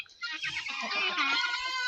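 A rooster flying out of its cage in a farmyard, a short burst of clucking and squawking calls, close and moderately loud.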